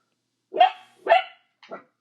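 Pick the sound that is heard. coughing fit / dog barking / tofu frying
dog barking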